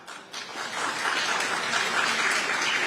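Studio audience applauding on a Hindi TV talk show featuring Nagaland's tourism minister, a dense, steady wash of clapping that swells after a brief quieter start and holds loud throughout, with no talk over it.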